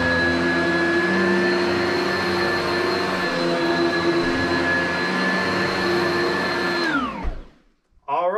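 Vacuum cleaner runs steadily and loudly close by, a constant whining drone with high tonal motor notes, for about seven seconds before it powers down, its pitch falling into silence.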